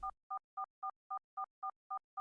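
Repeated electronic beeps from a dungeon-crawler game jam entry, sounding when text appears and resembling a phone dial tone; nine short, evenly spaced two-tone pulses, clear and alone.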